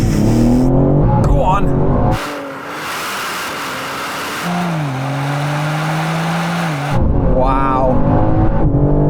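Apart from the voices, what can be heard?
Manhart BMW car launching in a drag race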